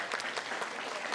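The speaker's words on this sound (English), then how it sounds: "Yes, round of applause for everyone." Brief, faint applause comes from the audience at a guide dog graduation, a soft patter of clapping.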